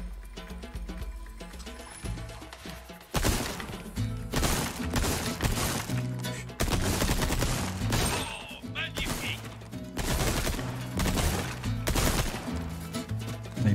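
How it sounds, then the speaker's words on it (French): Shotgun blasts hit wooden crates in Resident Evil 4 Remake, a string of loud booming shots with splintering crashes every second or so over tense game music, with someone speaking French between shots. "On va peut-être utiliser le pompe en vrai contre les caisses là."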